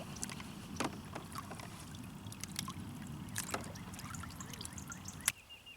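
Water trickles and splashes over a Ruger LCP II pistol outdoors during a torture test, in soft irregular pours and drips, with a sharp click near the end.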